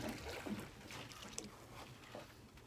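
Oars working a wooden beach boat during herring drift netting, giving a few soft strokes with water splashing and oar-rope creaks, fairly quiet and close, with no talk.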